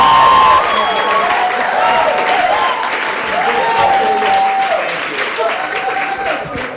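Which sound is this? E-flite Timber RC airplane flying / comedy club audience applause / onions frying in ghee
comedy club audience applause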